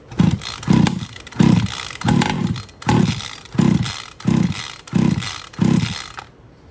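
A two-stroke gas engine on a Losi DBXL RC car runs in loud, close, rhythmic bursts, revving up and dropping about eight times in a row before cutting off at the end.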